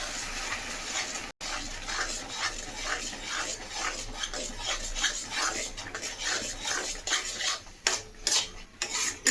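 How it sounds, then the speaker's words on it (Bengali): A utensil scrapes and clatters against a pan as mashed ivy gourd is stirred over a high gas flame, with repeated rhythmic scraping strokes that grow busier and louder toward the end, close up with no talking. "এবার গ্যাসটাকে জোরে করে এই পুরো জিনিসটা দিয়ে এবারে আমি নাড়তে থাকবো"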